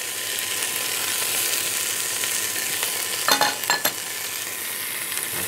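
Carrots cut into small cubes, onions and unpeeled garlic cloves sizzle steadily in a pan with the drippings left from a roast guinea fowl, a continuous hiss with a few clattering stirs near the end.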